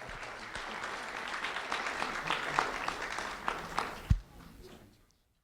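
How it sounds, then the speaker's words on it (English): Applause for a fourth grade student at a sheriff's office recognition event, a fairly faint crowd clapping that swells slightly, ends with a sharp thump, then fades out quickly. "a round of applause for Lucia Perez"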